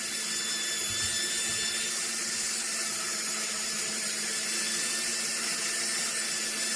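A worn 400-grit sanding barrel on a rotary tool runs against a polymer clay pendant with light pressure, making a loud, steady high whine that holds constant throughout with no talking.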